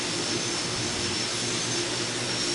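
Steady, continuous roar of an aircraft engine in Flight Simulator 2004, a dense broadband drone holding even and loud throughout with no talking.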